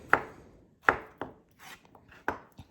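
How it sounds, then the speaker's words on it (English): A knife chops zucchini on a cutting board: five sharp, close knocks in an uneven rhythm, each with a brief woody ring, and no voices. "now we can just chop it right up"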